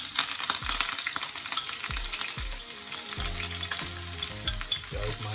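Onion, scallion, carrots and bell pepper hit hot oil with a loud, continuous sizzle up close. Stirring clatters and scrapes repeat through it.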